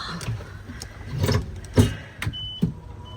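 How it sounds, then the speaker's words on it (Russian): A golf cart rolls along at a luxury resort villa, with a low motor drone broken by several short knocks and rattles, fairly close, and no talk over it. "мы на гольф-кар едем"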